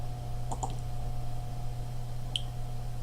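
A couple of quick computer mouse clicks near the start and one more sharp click later, small and close, over a constant low electrical hum with no talking.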